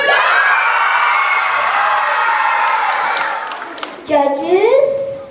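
Elementary school children cheering and whooping loudly for the red team at a school holiday games event, a sustained shrill crowd roar that dips briefly before a final burst of shouts.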